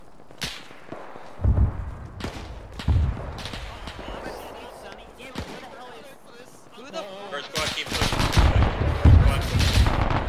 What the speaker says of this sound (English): Lay down fire, second squad.